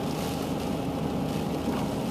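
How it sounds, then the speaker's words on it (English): Strong Hurricane Sandy wind blows in Ohio as a dense, continuous roar buffeting the microphone, steady and loud for the whole stretch without talking. "First thing you can tell is all the freaking wind."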